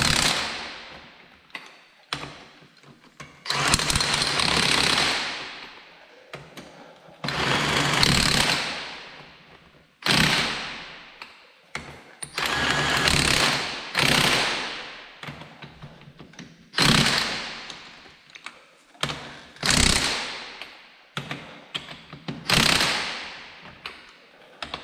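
An impact wrench fitted with a torque limiter hammers on a wheel lug nut in loud repeated bursts of several seconds each, separated by short pauses, close up.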